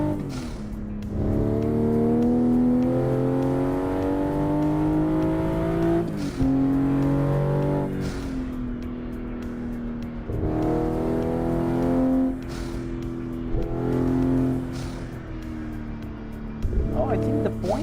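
Simulated racing car engine in Assetto Corsa on PC, revving up through several gear changes with rising harmonic whine, strong and steady, a sim-rig setup with speech likely under it.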